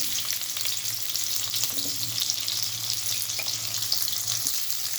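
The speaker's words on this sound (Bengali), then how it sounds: "এরপর আমি কড়াই তেল দিয়ে দুটো মিডিয়াম সাইজের পেঁয়াজ দিলাম।" Two medium onions sizzle in hot oil in a kadai, a constant close frying hiss with a few soft stirring scrapes and no voices.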